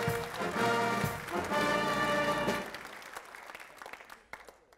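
A crowd in a hall gives loud, sustained applause for the mayor and aldermen at a 2019 installation ceremony; the clapping stays dense for a couple of seconds, then thins to scattered claps with a faint voice.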